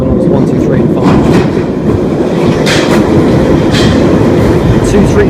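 London Underground Piccadilly line train bound for Heathrow, heard from aboard as a steady loud rumble with rolling wheel noise and faint clatter throughout.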